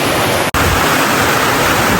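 Heavy rain pours down in a dense, steady hiss that fills the whole clip, loud and close, broken only by a split-second dropout near the start, with no talking.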